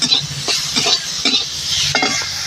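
Bitter gourd frying in a pan gives a continuous close hiss of oil, broken by a handful of scraping stirs that land at irregular intervals.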